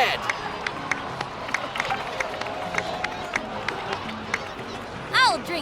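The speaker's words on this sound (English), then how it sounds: "please give another round of applause for them" Crowd cheering and applause rise in a Genshin Impact scene set in Natlan, with lively clapping and running footsteps scattered through it and some background voices. A brief swelling sound comes near the end.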